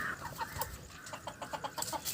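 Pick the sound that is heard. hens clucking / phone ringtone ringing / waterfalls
hens clucking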